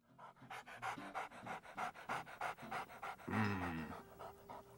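A dog pants rapidly and steadily up close in a home setting, quick rhythmic breaths repeating throughout with a brief whine-like vocal near the end.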